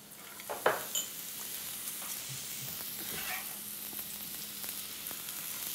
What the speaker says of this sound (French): Alors pour la duxelle, allez-y avec un feu assez élevé parce qu'il s'agit d'enlever de l'eau de végétation